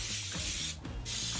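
Easy-Off cleaner sprayed from an aerosol can onto an aluminum supercharger rotor, a loud close hiss that breaks briefly in a short gap, then resumes.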